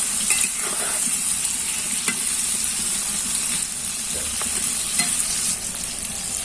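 Washed green chilies being mixed for a spicy, oily olive pickle: a steady, close rustling hiss with a few scattered soft clicks throughout, no voices.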